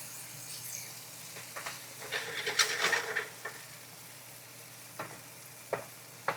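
Squash sautéing undisturbed in a pan, a soft steady sizzle with a brief louder burst of scraping and frying in the middle, then a few isolated clicks and taps.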